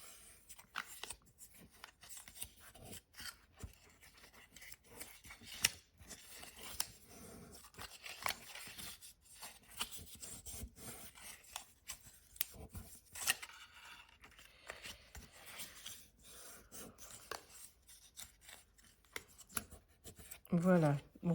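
Scissors cut paper for a handmade tea box, giving repeated crisp snips and rustling handling noises at close range, with a person speaking at points throughout.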